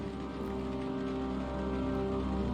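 Rain runs down a window in the video game Unavowed as a steady, even patter that holds unchanged throughout, set against a soft sustained tonal background.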